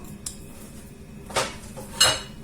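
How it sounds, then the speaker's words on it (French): Utensil scraping and clinking in a bowl while mixing ingredients with orange or lemon zest, three short sharp knocks spaced apart over a low background, no talk. "Je commence tout d'abord par mélanger tout ça."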